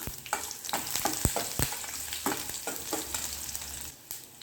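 Oil sizzles steadily with sharp intermittent pops and crackles as mustard seeds and urad dal splutter in a hot pan, close and fairly loud.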